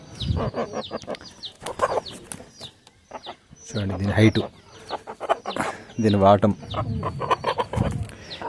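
Breeder chickens and roosters cluck and call repeatedly on a farm, close by, with someone talking over and between the bird sounds.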